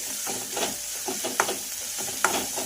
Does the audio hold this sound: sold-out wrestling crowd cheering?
no